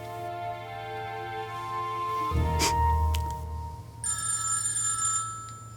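A telephone bell rings in a home, one clear burst of ringing standing out against a quiet low hum, loud and close, with no talking over it.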